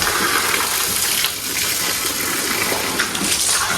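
Steady gushing water pours and drains away on a buffalo farm after the animals are washed, a loud continuous rush with no pauses.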